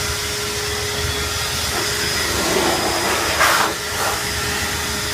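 Continuous airy hiss from a shop tool's blow function pushing out air, a steady loud rush that swells briefly near the end, with no talking.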